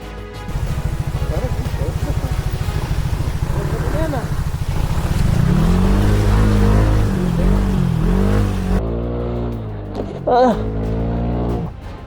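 Scooter riding along mountain backroads between Imugan and Kayapa, its small engine droning steadily with rising revs partway through, while voices talk over the ride.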